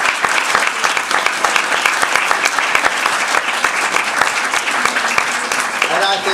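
A seminar audience on agroecology and feeding the world breaks into sustained, dense applause from many hands. The clapping is loud and continuous throughout, and a voice may be heard faintly beneath it.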